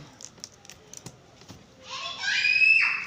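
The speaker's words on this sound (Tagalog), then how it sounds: "ayun may sumigaw pang bata guys" A child shrieks loudly nearby during an egg mukbang, a rising, sustained high scream after a stretch of light tapping and faint background noise.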